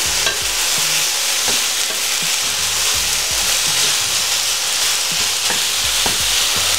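Tomatoes and Swiss chard stirred together in a frying pan over medium heat, with a steady sizzle and repeated scraping, clattering stirs throughout, no talking.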